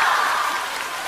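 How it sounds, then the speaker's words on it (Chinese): Audience applause at a Chinese crosstalk comedy show, a brief wash of clapping that stays steady and fairly close. "依然还有掌声"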